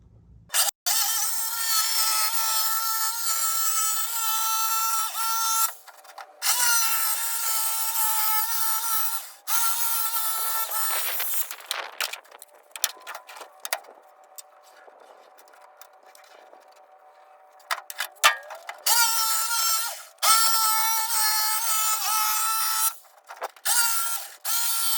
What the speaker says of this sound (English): Just going to take a jigsaw, whatever blade you've got on there will work.